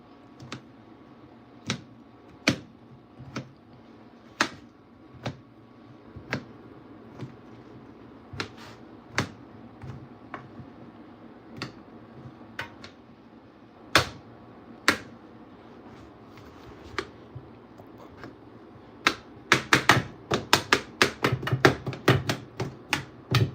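A knife chops through raw potatoes on a board, some slightly green inside, in steady separate knocks that speed up into a quick close flurry near the end.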